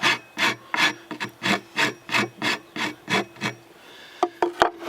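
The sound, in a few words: rasp filing a wooden axe handle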